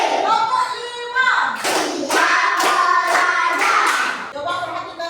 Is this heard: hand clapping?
yes